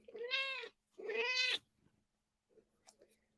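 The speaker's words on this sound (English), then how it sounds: "This is my cat." An old 15-year-old female cat gives two loud, drawn-out meows close by, each about half a second, followed by faint rustling and soft thumps in a quiet room.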